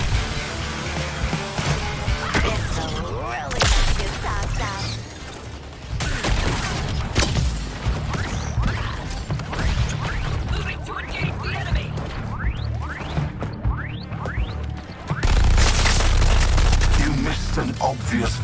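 Rapid gunfire and booming impacts from the Suicide Squad: Kill the Justice League video game, dense overlapping shots and blasts under game voices and music, with a heavy burst near the end.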